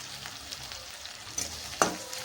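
Curry leaves fry in hot masala in a pan with a steady, soft, close sizzle. The crackle flares into a few sharper spurts near the end. No voices.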